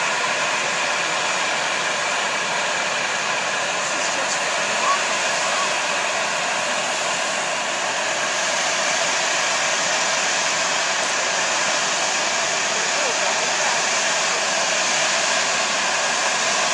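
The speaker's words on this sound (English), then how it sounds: "Look at the bubbling down there." Steady broadband rushing and hissing from a bubbling hot spring in Yellowstone, constant and fairly loud throughout with no clear breaks.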